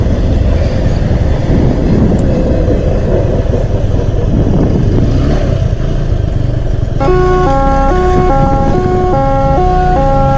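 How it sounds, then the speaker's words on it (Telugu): A train approaches while a motorbike travels toward the Chinna Medaram Jatara 2024. Steady engine and road rumble builds until a loud, multi-toned horn blares repeatedly through the last few seconds. "ఏదో ట్రైన్ వస్తుంది"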